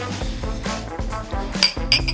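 Drinking glasses clink in a toast, two bright, short taps near the end, heard over a low, rhythmic background hum.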